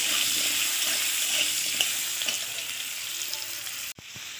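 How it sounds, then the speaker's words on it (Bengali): Potatoes frying lightly in a pan with salt and turmeric, a steady close sizzle with occasional stirring taps, cutting off abruptly near the end, no one speaking. "দিয়ে আলুটা আমি হালকা করে ভেজে নেব"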